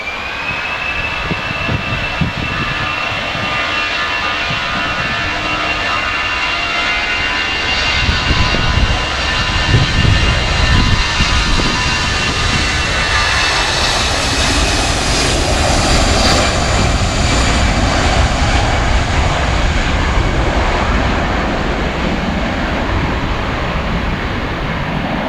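A passenger aircraft makes a rolling departure at Manchester Airport, a loud steady engine roar with a rising whine that builds and swells through the takeoff roll, continuous and close for the whole stretch.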